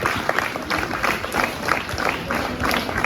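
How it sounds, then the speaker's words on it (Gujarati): An audience at a school's Student of the Year ceremony claps loudly and continuously, a close, busy patter of many hands with faint crowd murmur underneath. "જોરદાર તાળીઓથી અભિવાદન થાય."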